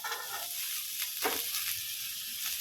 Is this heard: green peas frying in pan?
yes